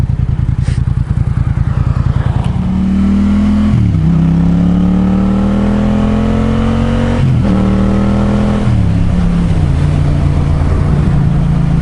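A Yamaha MT07 motorcycle revs up loud and close, its engine pitch climbing through repeated accelerations with short dips between gear changes.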